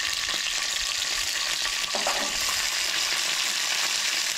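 Chillies and garlic fry in hot oil, making a dense, steady, even hiss at close range with no voices.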